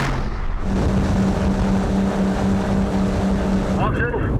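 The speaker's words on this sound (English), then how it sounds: "We've just taken a small local boat up from Kristiansand to Oslo." A small local motorboat with several hundred horsepower roars loudly and steadily on open water, with a droning engine tone and heavy wind and water rush, running alone without talk.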